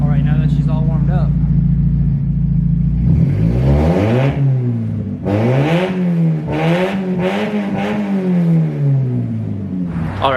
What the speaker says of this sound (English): a free exhaust modification to make your car louder. Literally just by removing your exhaust pipe